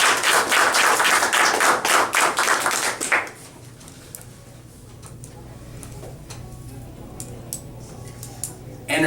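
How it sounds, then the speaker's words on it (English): A small audience claps at a speaking-club meeting in a loud burst of applause for about three seconds, which then drops away to a quiet room with faint stray sounds. "Today, let's have a big round of applause for Jeremy Udell."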